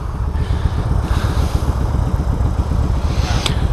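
A 2016 Indian Roadmaster and a Harley-Davidson motorcycle idle side by side, a loud, steady low engine rumble with a fast pulsing throb and faint mechanical clatter, close up and without talk.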